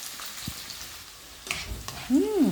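Pork steak frying in cooking oil in a pan, half-cooked until tender, with a steady close crackling sizzle throughout and a few louder pops; a voice cuts in briefly at the end.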